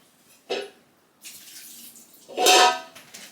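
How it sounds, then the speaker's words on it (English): A cooking pot gets a quick rinse under a running tap in a home kitchen, with a short splash near the start and a louder, fuller gush of water later, surrounded by quieter stretches of flow. "And I'm going to give a quick rinse."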